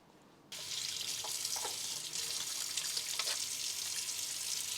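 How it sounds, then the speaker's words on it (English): Tap water runs steadily into an Instant Pot holding chicken, fish sauce and broth ingredients for chicken pho, a sudden start after a brief quiet moment, then a continuous close hiss with faint clinks. "And now I'm going to fill it up with water."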